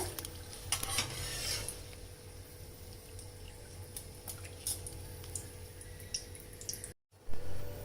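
Chicken parcel snacks made from flour dough deep-frying in hot oil, a soft continuous sizzle with occasional stirring clinks and scrapes, and a brief dropout near the end.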